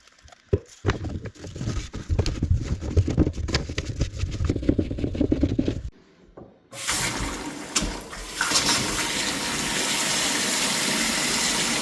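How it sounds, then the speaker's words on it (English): A tap gushes water into an under-sink basin being filled toward overflow during a plumbing job, starting as a loud uneven splashing pour, cutting out briefly, then resuming as a steady hissing rush that holds to the end. "We will fill that up to overflow in a second"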